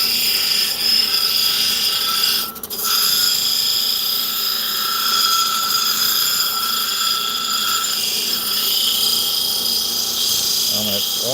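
A rock-cutting machine with a noisy grinding wheel runs steadily and loudly throughout, a constant high-pitched whine with a brief sharper burst near the start.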